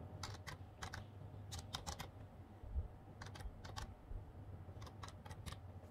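Quick bursts of keystrokes on a computer keyboard as an account number is entered, short clusters of close, crisp clicks separated by pauses in a quiet room.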